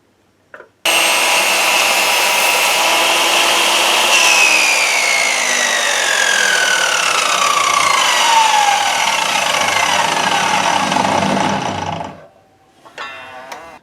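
Bandsaw slicing the lid off a wooden USB cover blank, a loud continuous cutting whine with a falling tone that runs steadily for about eleven seconds, then cuts out to quiet handling.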